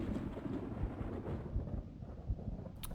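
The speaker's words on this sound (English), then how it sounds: "Thunder." Deep rumbling thunder from a storm, a continuous low roll with a few heavier booms, fairly loud and heard alone with no voices.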